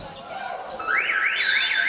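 A basketball game's three-quarter-time buzzer sounds at a match between Waverley and Melbourne, rising into a loud, wavering alarm tone that pulses repeatedly over faint arena ambience.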